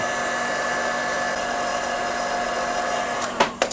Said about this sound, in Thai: นะตัวนี้ก็คือปืน ความร้อนนะครับ ได้เป่าผมก็ได้นะครับ